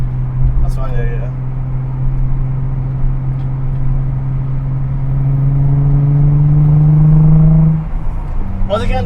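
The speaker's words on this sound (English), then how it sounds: "Once again, this is Z1 Touring exhaust." A car fitted with a Z1 Touring cat-back exhaust revs up close, its deep droning tone climbing steadily for several seconds before dropping back to idle, with brief voices at the start and end.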